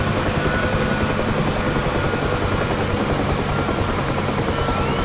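A Bell UH-1 Huey helicopter in the DCS flight simulator with its throttle rolled back to idle, producing a steady, loud turbine and rotor drone with a faint high whine, unchanging throughout.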